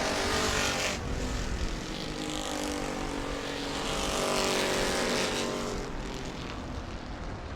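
Race cars roar past on the final lap of weekly oval racing at New Smyrna, a loud continuous engine drone with passing swells and crowd-level ambience, no clear talk.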